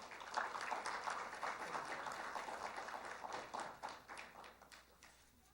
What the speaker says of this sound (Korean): 여러분 축하의 박수를 부탁드립니다